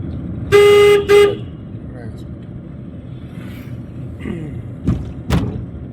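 A car horn honks twice in quick succession, a long toot then a short one, close and loud inside a car during a driving lesson, followed by a few thumps and soft talk over engine hum.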